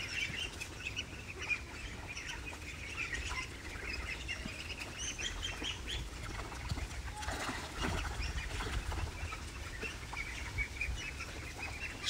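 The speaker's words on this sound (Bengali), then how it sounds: "হাঁস লাভার পরপরই খেলা করা শুরু করছে পানি পেয়ে" Pekin ducks splash and play in pond water on a backyard farm, with steady wet splashing, paddling and occasional flapping across the whole stretch, plus faint quacks, moderately close and continuous with no talk.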